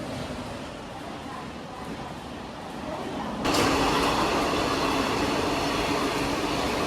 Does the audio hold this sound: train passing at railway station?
yes